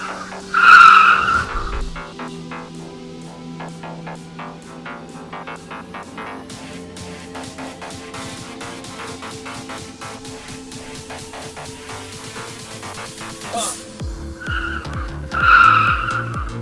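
Racing cars skid and squeal their tires, with a long screeching slide between loud bursts of engine revving at the start and end, close and sustained, with no talking.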